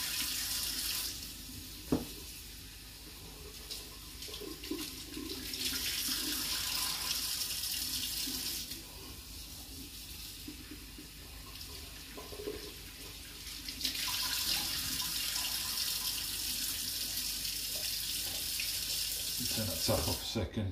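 Tap water runs into a sink while kidney beans are rinsed in a kitchen, a steady hiss of flowing water that shifts in strength as the beans are moved, with faint talk in the background.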